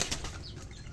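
Two chickens fighting in a yard, a bantam among them, with a burst of loud, close wing flapping and scuffling throughout a brief moment, no talking.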